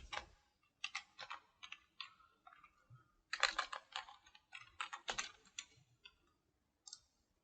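Keystrokes on a computer keyboard in irregular bursts of quick, close clicking with short pauses between runs, ending in a few isolated taps; no voices.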